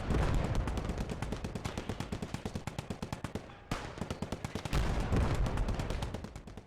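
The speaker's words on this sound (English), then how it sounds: "Got my Maxim tearing up this infantry trying to get through." Rapid sustained bursts from a Maxim machine gun in the WWII game Gates of Hell: Ostfront, a steady loud rhythmic stream of shots with a brief pause midway before firing resumes.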